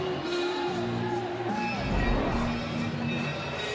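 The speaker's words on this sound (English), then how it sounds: "All the crowd is yelling too" Arena crowd at an NCAA women's volleyball match, Nebraska against Michigan State, yelling and roaring in a sustained distant wash of voices that swells near the middle, with a commentator talking over it.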